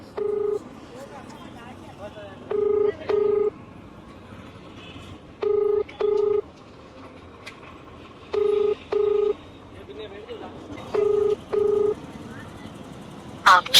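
A telephone call is dialed and left ringing unanswered: repeated pairs of steady ringback tones sound at even intervals over a quiet background, with faint talk and a short burst of noise at the end.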